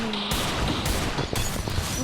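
Gunfire in a shooting video game, with a dense, loud fusillade of rapid shots and sharp cracks that keeps going without a break.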